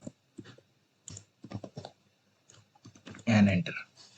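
Keys clacking in short irregular clusters on a computer keyboard while a database command is typed, close and crisp, with a voice speaking briefly near the end.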